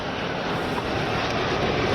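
Fighter aircraft flying past in formation over hospitals, a steady broad engine roar that holds loud and even across the whole stretch with no voices.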